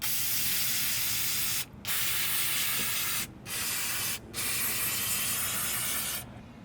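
Brake parts cleaner sprayed over the front brakes of a 2009-18 Dodge Ram 1500, a loud steady aerosol hiss in four long bursts separated by brief pauses, close to the can with no talking.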